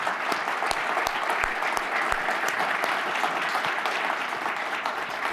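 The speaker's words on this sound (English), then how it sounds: "let's give a nice round of applause for our wonderful panel here." Audience at an energy industry summit applauding a panel, dense steady clapping from a large crowd lasting several seconds with no talk.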